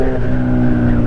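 A Yamaha XJ6 600cc motorcycle engine hums loud and close at a steady pitch, a brief continuous burst without any speech.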